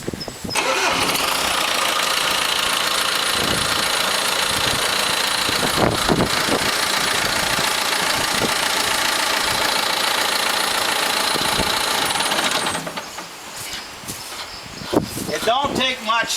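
A John Deere tractor engine runs loud and close, starting up and holding a steady rattling roar with clanks, then cutting back near the end as a voice speaks.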